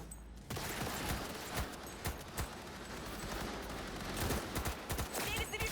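Sustained gunfire in the Cyberpunk 2077 Phantom Liberty expansion, with rapid repeated shots and bursts cracking almost continuously for several seconds at fairly loud, close range.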